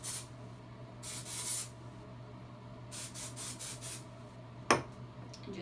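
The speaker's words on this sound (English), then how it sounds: "And so now we're just going to throw a little bit more dry shampoo in." Dry shampoo spray applied to hair in two brief hissy bursts, close up, along with faint rubbing and handling noises and a small knock near the end.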